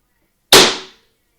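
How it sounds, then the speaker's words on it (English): A single balloon pops with a sharp, loud bang that decays over about half a second, alone in an otherwise silent space inside a reportedly haunted house. "there's more balloon pops"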